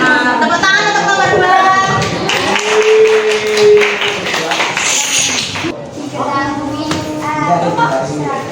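A classroom of students clapping hands together in a short burst of applause for a group's answer, mid-loud and close, with a teacher's voice speaking before and after.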